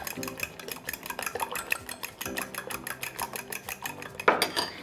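A utensil scrapes and taps against a bowl in steady stirring strokes, mixing chopped herbs into eggs, close by, with a louder clink near the end.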